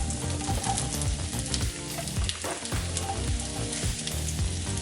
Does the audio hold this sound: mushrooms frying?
yes